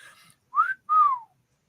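A person whistles two clear notes, a short rising tone followed by a longer falling one, close and alone in otherwise quiet surroundings.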